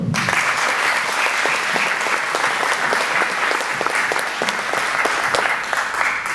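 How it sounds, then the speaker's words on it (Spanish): Steady audience applause at the end of a geology lecture, many hands clapping continuously at a constant level throughout, with no voices over it. "un aplauso para Antonio."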